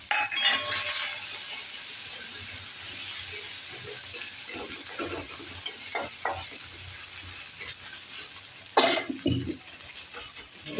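Ginger, green chili and garlic frying in a pan, a continuous sizzle broken by repeated clinking, scraping stirs of a spatula against metal, close and fairly loud.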